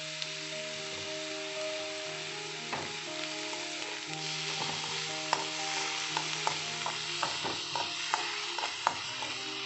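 Chopped onion and green chilli fry in a pan with a loud, steady sizzle, while a utensil stirs and scrapes through it in frequent close clicks and taps.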